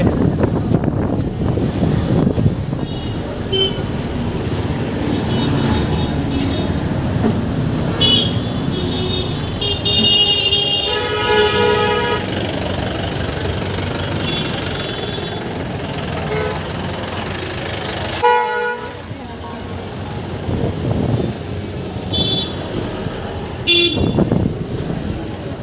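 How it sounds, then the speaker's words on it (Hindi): Busy city street traffic in an Indian market area, with cars, trucks and buses rumbling steadily and several car horns tooting at intervals, heard close while walking. "बहुत ज़्यादा भी ट्रैफिक हो रहा है"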